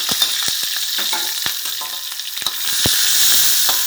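Oil sizzles and crackles in a hot wok for a Thai catfish stir-fry, with continuous frying hiss and scattered sharp pops growing slightly louder near the end.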